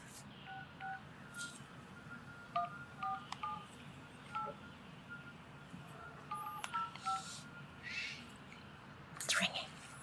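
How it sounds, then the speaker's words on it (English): Telephone keypad tones beep in short clusters as a number is dialed, followed by a faint ringing on the line, quiet and close with low background hiss. "The phone's ringing"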